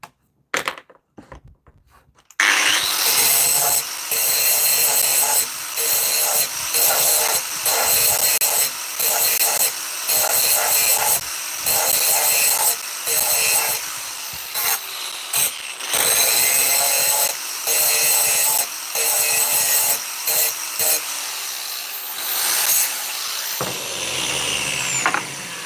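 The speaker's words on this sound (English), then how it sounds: "Okay, so I need to grind a wee bit off this now, but more focusing on this end, this edge, rather than the whole face." A power grinder works the edge of a 304 stainless steel part, starting after a short quiet lead-in and running loud and close in a steady harsh whine with brief regular dips, then winding down at the end.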